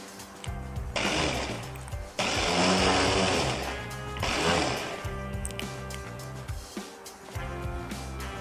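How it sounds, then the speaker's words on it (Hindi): A blender grinds tamarind paste in a blender jar, running in several loud whirring bursts with gritty grinding and short pauses between. "यहाँ हम एक ब्लेंडर जार में ये इमली का पेस्ट ऐड कर लेंगे, इसे अच्छे से चला लेंगे"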